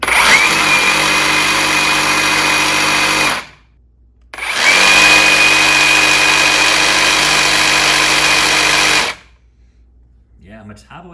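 A Metabo HPT reciprocating saw runs at speed 4 with orbital action on, a loud, steady high-pitched buzzing whine in two long bursts separated by a brief pause, ending in a short quiet stretch.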